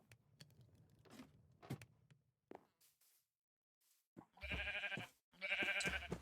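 Sheep in the video game Minecraft give two loud, close bleats near the end, after a stretch of quieter game sounds and a brief silence.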